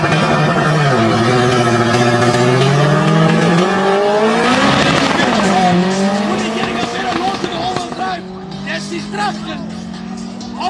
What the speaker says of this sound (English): That is all-wheel drive launch there, baby.